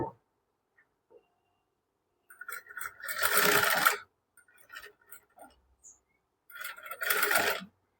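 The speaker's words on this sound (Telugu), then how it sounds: "సేమ్ మనము అదే కుట్టు మీద కుట్టు వచ్చేలాగా వేయాలండి, అప్పుడే పైపింగ్ అన్నది నీట్గా వస్తుంది." Sewing machine stitching piping onto a princess-cut blouse, running in two short bursts of rapid mechanical whirring separated by quieter handling noises, close and fairly soft with no talk.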